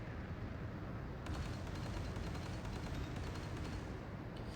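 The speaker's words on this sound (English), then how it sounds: "What's not to love about the sound of that cannon?" Aircraft cannon firing in a video game, a rapid dense rattle of shots over a loud rumbling roar, continuous and heavy with no talking.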